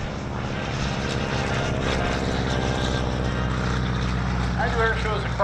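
Stearman biplane flying at an air show, its radial engine and propeller giving a loud, steady drone that holds throughout, with a brief rise in pitch near the end.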